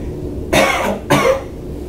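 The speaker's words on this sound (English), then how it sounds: "Now turn your head and give me a good hard cough." Two hard coughs in quick succession during a medical exam, close and loud, each a sharp burst over a quiet room background.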